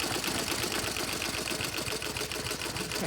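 An embroidery machine stitching a design onto a sock at around 750 stitches per minute, a steady rapid mechanical chatter that runs continuously, close and fairly loud, with no voices.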